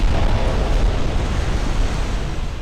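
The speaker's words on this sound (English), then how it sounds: "There's a fire and a torpedo hit right in the front." Torpedo hit explosion against a ship in the naval warfare game Ultimate Admirals: Dreadnoughts, a loud, sustained rumbling roar with a wash of blast noise that tapers slightly, no voices.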